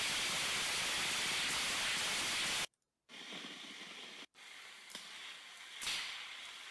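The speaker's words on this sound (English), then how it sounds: "I'm assuming that weird noise is crackle." A crackle-type consumer firework from TNT's 2016 line plays back as a dense, hissing stream of crackles. It is fairly faint and continuous, broken by two brief dropouts.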